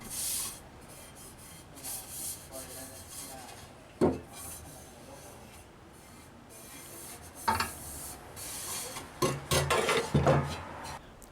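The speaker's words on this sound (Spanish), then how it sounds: "El primer paso fue lijar desde más grueso a más fino para eliminar todas las imperfecciones superficiales que presentaban estos retazos." Wood scraps sanded by hand, working from coarse to fine grit to clear surface flaws: soft rubbing and rasping strokes come in bursts, with a few sharper scrapes and knocks, close and fairly quiet with no talk.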